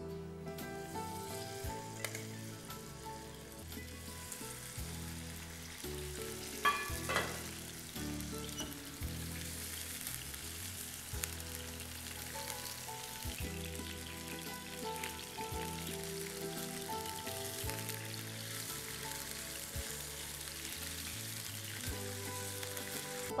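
Chicken frying in oil until light golden brown, a dense continuous crackle and sizzle held at an even level, with occasional clinks and stirring sounds, close up and without talk.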